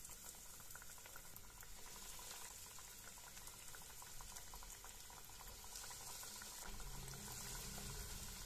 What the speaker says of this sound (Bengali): এবার গরম তেলে একটা একটা করে ছেড়ে দেবো